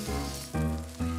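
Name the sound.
Johnny cakes sizzling while frying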